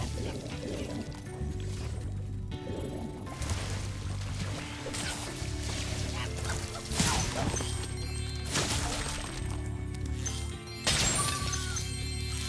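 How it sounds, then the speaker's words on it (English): Seaweed being smashed in the Spyro Reignited Trilogy video game, Ripto's Rage level, heard as repeated loud crashing whacks over a dense game music and effects bed, with several sharp impacts spaced through the passage. "The skill point is to break all the seaweed."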